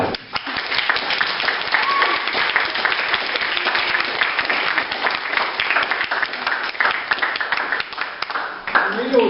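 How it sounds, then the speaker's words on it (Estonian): An audience at a draughts club Christmas party claps loudly and continuously, a thick patter of many hands with crowd murmur mixed in, sustained for the whole stretch. "Veel kõvem aplaus teha."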